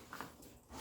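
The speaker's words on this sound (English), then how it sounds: "When I put a laptop in there, it was hard to zip." A zipper on a Cotopaxi Allpa carry-on bag holding a laptop is pulled with effort, a quiet, short rasping zip in a couple of small tugs, heard close and alone.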